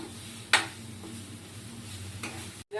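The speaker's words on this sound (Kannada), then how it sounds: "ಅನ್ನನ ಹಾಕಿ ಕಲಿಸ್ಕೊಡ್ಬೇಕು" A methi mixture with coconut powder and cooked rice is stirred in a pan over a low sizzle, with one sharp spoon scrape near the start and a fainter one later.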